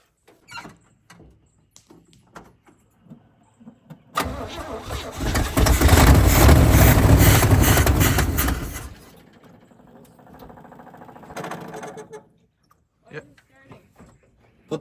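After several seconds of quiet, a 1980 K1500 pickup that sat unused for 22 years cranks and fires up. It roars loudly up close for about five seconds, then drops to a softer idle, with voices around it.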